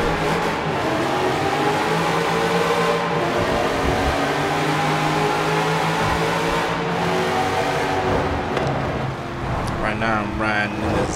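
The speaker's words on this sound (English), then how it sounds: "Right now I'm riding in the Z06." A Corvette Z06 heard from inside while riding gives a loud, continuous engine drone that rises and falls as it accelerates, with people talking over it throughout.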